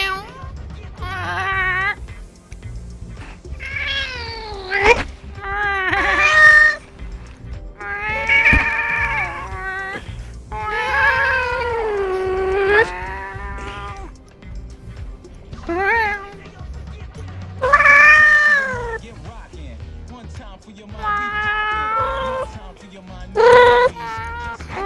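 A cat yowls again and again in long, wavering, drawn-out cries, loud and close, with short pauses between calls and a voice faintly underneath.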